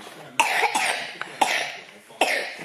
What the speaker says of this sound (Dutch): Moet je weer zo hoesten?